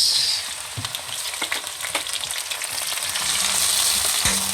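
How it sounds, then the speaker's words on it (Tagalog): Tomatoes sautéing in a pan for pork pochero make a steady, near sizzle throughout, with scattered light clicks and scrapes of stirring and no voices. "Igisa lang natin ito maigi mga guys."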